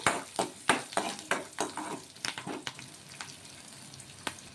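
Cumin seeds and peeled garlic cloves fry in hot oil while being stirred, with a run of sharp crackling pops and spoon scrapes up close that thin out to a softer sizzle.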